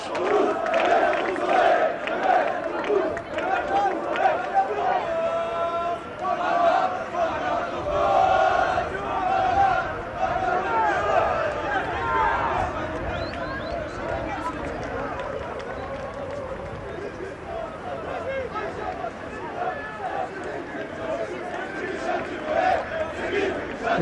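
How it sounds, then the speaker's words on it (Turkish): Football fans at a Fenerbahçe training ground gathering chant for player Mehmet Topuz, a dense, steady crowd roar with rhythmic voices rising and falling throughout. "Mehmet Topuz için"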